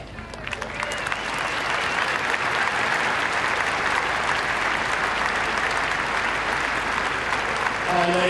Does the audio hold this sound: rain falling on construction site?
no